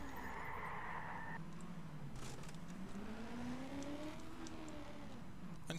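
A tractor engine drives along in the video game Just Cause 2, a continuous rumbling motor whose pitch rises and falls as it accelerates, with a brief higher tone early on and faint clicks over it.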